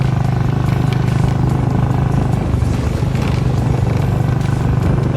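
A motorbike is ridden along a rough tea-garden road, with a steady close engine drone, rattling and wind rush that continue throughout.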